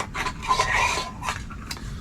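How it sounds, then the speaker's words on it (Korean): A stainless steel camping tableware set is handled close up, with metal pieces scraping and clinking together in short bursts. "그냥 식기 세트입니다."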